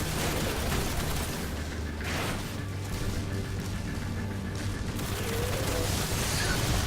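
A grenade explodes amid gunfire in Destiny, a loud, continuous barrage of booms and rapid shots layered over mechanical clatter, with no speech.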